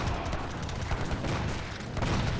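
Gunfire and grenade blasts in the Age of Empires 3 strategy game, a dense, continuous roar of overlapping musket volleys and explosions as cannons are destroyed, loud and unbroken throughout.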